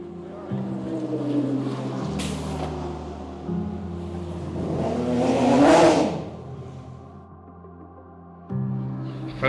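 An endurance race car approaches on the track with an engine roar that swells and peaks, then drops back to a lower hum and picks up again near the end.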